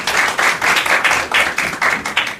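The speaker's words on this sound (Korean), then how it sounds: "강사님 박수로 환영하겠습니다." A small church congregation claps steadily together for a couple of seconds, rhythmic and close by, with no talking.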